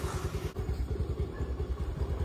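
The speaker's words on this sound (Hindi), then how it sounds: "एक अच्छी चीज़ है कि हम बाइक पे जा रहे हैं" A motorcycle engine idles close by in a steady, low, pulsing throb that lasts the whole stretch, with a light clatter over it and nobody speaking.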